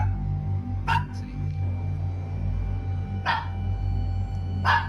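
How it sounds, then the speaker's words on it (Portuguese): A dog barks a few times at night, sharp and somewhat distant, at a slow irregular rhythm over a steady low hum. "vemos o cachorro latindo, como se houvesse alguém do lado de fora"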